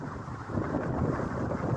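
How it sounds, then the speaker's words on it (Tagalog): Strong cold wind buffets the microphone in a steady, loud rush of low rumbling noise throughout, with no voices. "Hangin kaayo eh."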